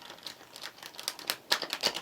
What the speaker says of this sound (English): I'm shuffling both these tarot decks